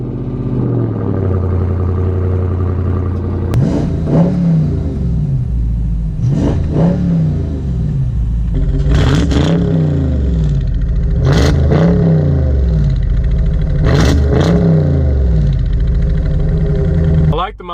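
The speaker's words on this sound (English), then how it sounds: "Foot on the brake, press it down, and you hear that V8 come to life, naturally aspirated V8" A naturally aspirated Hemi V8 in a Dodge Charger idles loud and close, with repeated rising and falling revs blipped several times in steady rhythm.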